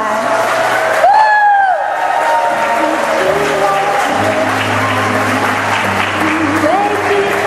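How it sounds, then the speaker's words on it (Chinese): Warm crowd applause greets a bride and groom arriving on stage at a wedding celebration. The clapping is loud and continuous, mixed with cheering and a host speaking over it through a microphone. "那我现在请大家热烈的掌声，再热烈的掌声，再热烈的掌声"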